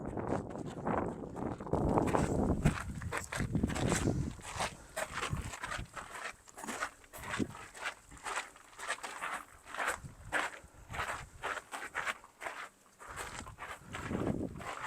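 Footsteps shuffle and crunch on stone inside an echoing rock chamber along the coast near Sagres, Portugal, irregular steps close by with wind and faint murmuring in the background.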